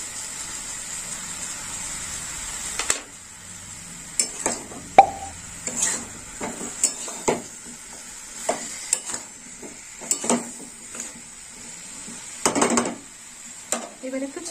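A cauliflower and carrot curry with chili powder is turned over in a pan: scattered clinks and scrapes of a spoon against metal over a soft, continuous sizzle, close by.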